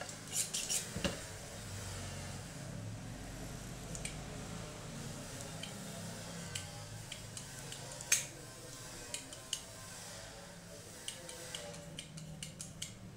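A scalpel skives leather by hand, giving faint, scattered scraping and slicing ticks over a quiet room hiss, with a few sharper cuts standing out.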